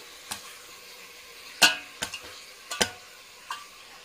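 Day-old rice and jerk chicken for biryani being flipped and stirred in a hot pan, giving a faint steady sizzle broken by a few sharp scraping clicks and taps, close by, with no talking.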